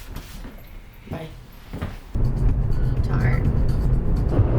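A car door thumps shut, then a steady low engine and road rumble fills the cabin, following quieter movement and voices.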